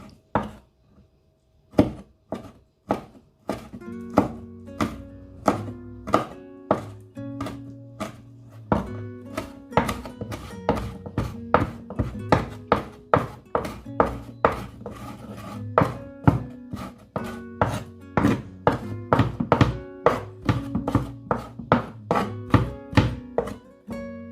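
A knife slices pepper on a cutting board in a steady run of crisp, close chops and thunks, dozens of evenly spaced strokes that quicken and grow denser, with no talk over them.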